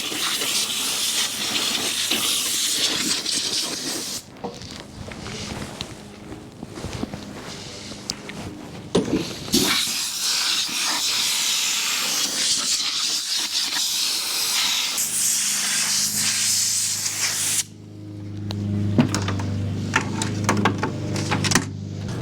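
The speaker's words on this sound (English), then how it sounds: "We're gonna get in behind the shroud here and blow the radiator completely out." Compressed air blasts loudly and continuously through the radiator of a Toro Wheel Horse 520 LXi garden tractor, clearing packed grass from behind the shroud, with brief pauses and shifts in the hissing rush.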